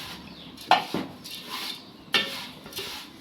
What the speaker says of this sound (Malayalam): അത് നമുക്ക് ചട്ടിയിലിട്ട് ചെറുതായിട്ടൊന്ന് ചൂടാക്കിയെടുക്കാം.